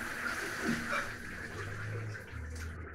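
Shower water running steadily in a bathroom, a continuous splashing hiss at moderate level with faint background sounds.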